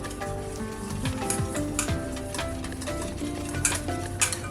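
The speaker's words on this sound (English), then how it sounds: "now we're gonna mix all this in" Chinese pepper steak with onions being stirred and tossed in a hot sizzling pan, a steady crackle of frying with scraping and clinking utensil taps, close and continuous.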